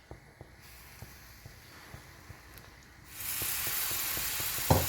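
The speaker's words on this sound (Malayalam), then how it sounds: "ഇനി ഇതിലേക്ക് നമുക്ക് ശർക്കരപ്പാനി നല്ല ചേർത്ത് കൊടുക്കാം." Jaggery syrup is poured into a ragi mixture in a pan and stirred in. Quiet scraping ticks give way to a sudden, steady loud sizzle, with a sharp clatter near the end and no talking.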